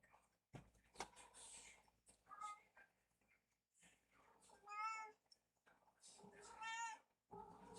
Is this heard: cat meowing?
yes